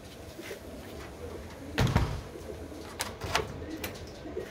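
Pigeons in a coop murmur with soft low cooing, broken by a single louder wooden knock or door bang partway through, then a few faint clicks.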